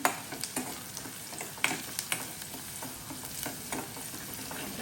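Garlic cloves fry quietly in a pan, a soft continuous sizzle broken by scattered clicks and taps as they are stirred, with no talk over it.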